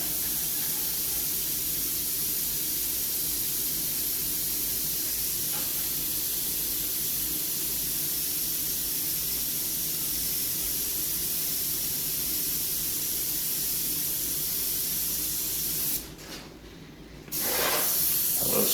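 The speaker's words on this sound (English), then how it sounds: "Now we can come in and put the shadow in the middle around the rivet." An airbrush hisses steadily as paint is sprayed around a rivet on a metallic surface, a continuous close spray that cuts out briefly near the end before resuming.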